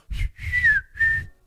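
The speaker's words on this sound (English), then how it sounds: "Blow the whistle." Three sharp whistle blasts sound in Club Penguin, the middle one longest with a falling pitch, close and loud with short gaps between them.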